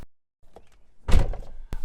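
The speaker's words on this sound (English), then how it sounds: "Close the vehicle doors." A Nissan Armada's vehicle doors shut with a solid, close thunk, a short burst of clatter following, then a sharper knock near the end.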